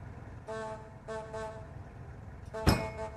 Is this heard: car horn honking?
yes